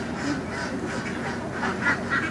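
Ducks quack repeatedly in a busy, overlapping chorus, fairly close and steady, with a couple of louder quacks near the end.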